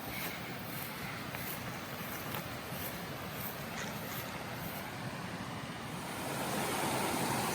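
A rain-swollen river flows just below a hiking camp in New England National Park, its steady rushing wash carrying on evenly from a short distance and growing slightly louder toward the end.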